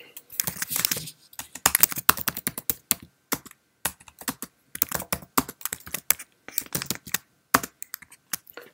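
Fast, uneven typing on a Mac keyboard while writing in Microsoft Word, with close, crisp key clicks in bursts separated by short pauses, and no voice.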